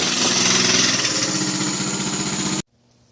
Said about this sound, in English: Got this Coleman Minibike 2 years ago for my kids.